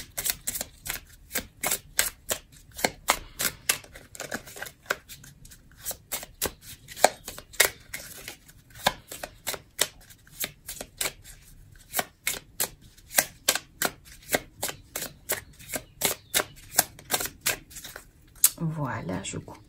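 Tarot cards being shuffled for a love card reading, a long run of quick, sharp riffling flicks in an uneven rhythm, close and crisp, with no talk.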